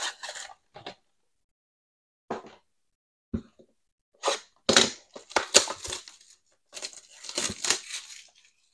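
Prizm football card blaster boxes and packs being torn open, with sharp bursts of crinkling foil wrapper and cardboard ripping in irregular clusters, separated by short silent pauses and growing busier toward the end.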